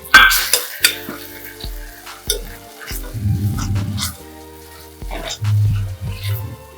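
Chicken fries and is stirred in a pot for pulao, with intermittent scraping of a spoon against metal, clinks and bursts of sizzling, close and moderately loud.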